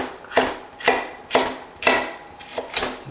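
A knife cuts a bell pepper on a wooden board, giving about seven crisp, evenly spaced chops close by with no one talking.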